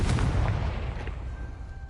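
Confringo explosive spell cast in Hogwarts Legacy, a loud booming blast with a rumbling low-end burst that decays over about two seconds, with a faint tone lingering at the end and no talk over it.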